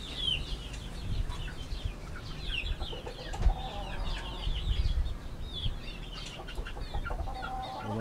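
Fighting roosters and chickens, a lemon sweater and white kelso, cluck and call near a backyard pen, a steady low chatter with occasional sharper squawks rising over it.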